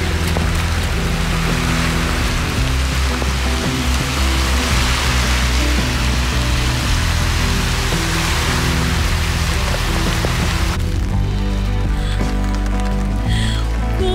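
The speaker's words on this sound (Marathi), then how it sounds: "पावसाने पण मस्त जोर धरलाय अगदी." Heavy rain pours down steadily on a Michigan beach on Lake Michigan, a loud, dense, continuous hiss of drops with low rumbling underneath, easing slightly near the end.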